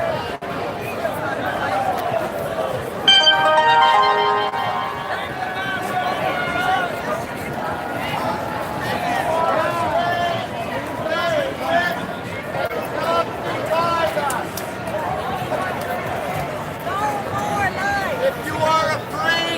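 A large outdoor crowd at a freedom rally in Vancouver, BC, makes a steady murmur of voices and chatter for about twenty seconds. A clearer voice speaks over the background babble.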